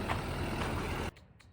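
A truck backing up, with a loud, steady engine rumble and reversing noise that cuts off abruptly partway through, leaving faint, quieter background sound.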